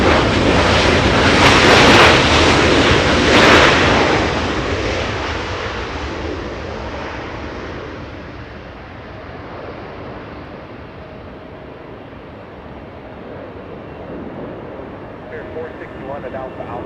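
An Asiana Airlines airliner at Los Angeles International Airport roars by, a loud broad jet rush that peaks early and then slowly fades into a distant rumble mixed with wind noise.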